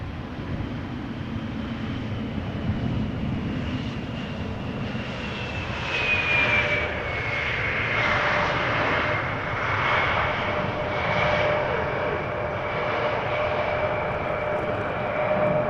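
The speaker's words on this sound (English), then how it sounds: "KLM flight 1598 arriving from Rome, Boeing 737-800" A KLM Boeing 737-800 inbound from Rome approaches Schiphol, its steady jet engine roar rising and holding loud throughout, with a whining tone sliding downward as it nears.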